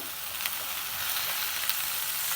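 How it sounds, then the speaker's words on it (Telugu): Ivy gourd frying in a little oil with tomato while being stirred, giving a continuous bright hiss and sizzle with a few faint scraping knocks. "నూనె వేసి చూస్తున్నారు కదా ఈ దొండకాయ వచ్చేసి మనకి కలర్ కొద్దిగా మారేదాకా ఇట్లాగా తిప్పుతూ ఉన్నాం"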